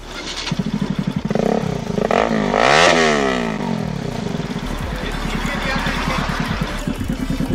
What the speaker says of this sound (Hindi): NS का साउंड चेक कराऊंगा गाइस, NS लियो बिन्स का एग्जॉस्ट जैसे कि देख सकते हो।